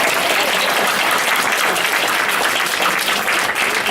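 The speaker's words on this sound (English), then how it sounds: "Give yourselves a round of applause." Sustained audience applause fills a candidates forum, a dense, even wash of clapping that stays loud and steady throughout with no pauses.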